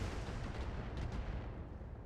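A volley of NRM 40 missiles strikes a Marauder 5X mech in the video game BattleTech, making a loud, dense, continuous rumble of overlapping explosions with no talk.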